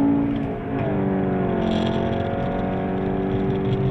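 A 2017 Volkswagen Golf R on a race track, heard from inside as the engine drones loud and steady and climbs gradually in pitch under acceleration, with no one talking.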